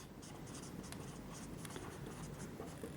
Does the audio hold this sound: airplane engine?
no